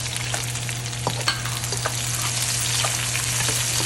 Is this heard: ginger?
yes